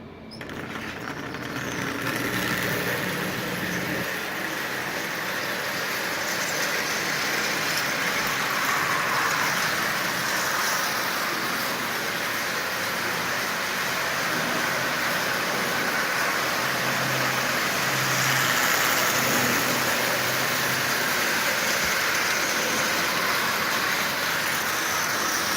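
A repainted Marx Commodore Vanderbilt toy train engine, originally a wind-up model, pulls eighteen Marx cars around the inside rail of a track, giving a continuous steady whirring rumble with no voices over it.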